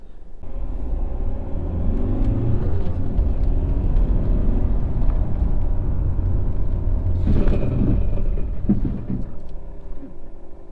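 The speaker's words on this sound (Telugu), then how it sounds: "ఇట్లా బ్రేక్ చేసినట్టు టిక్ టిక్ టిక్ ఇట్లా మనకు సౌండ్ కూడా వస్తుంటుంది" A car braking hard with its anti-lock brakes engaged: a steady, loud, deep road-and-engine rumble runs throughout, with a burst of rougher, pulsing noise near the end.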